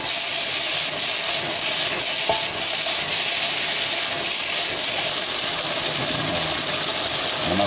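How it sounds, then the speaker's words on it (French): A mixture is gently stirred in a hot cooking pan, with a loud, continuous sizzle and hiss of frying close by and faint scraping under the steady crackle. "Maintenant on mélange tout délicatement."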